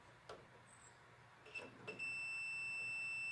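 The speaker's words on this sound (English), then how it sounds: "Turn the knob to heat, and you get a beep." A Whirlpool dryer gives a steady electronic beep when its knob is turned to heat, a few soft clicks first, then one sustained high tone holding to the end, close and fairly quiet.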